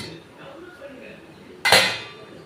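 A metal lid lifts off a cooking pot of steamed ragi kozhukattai with a single loud clank and scrape about two-thirds through, after faint kitchen quiet.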